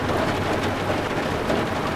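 Heavy rain pouring steadily in the UBOAT submarine video game, a dense continuous hiss with low rumbling underneath, loud and unbroken throughout.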